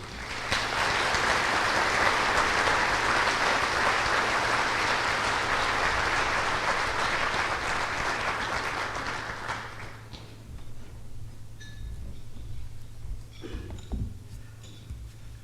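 Audience applause welcoming Salem Mayor Chuck Bennett to the podium at a State of the City address, a sustained loud roomful of clapping that fades after about ten seconds into scattered claps and room noise.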